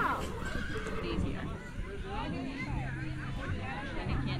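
A horse whinnies at an outdoor Halloween petting-zoo setting in New Jersey while a crowd chats, and hoof and farm-animal noises mix into the steady babble of voices.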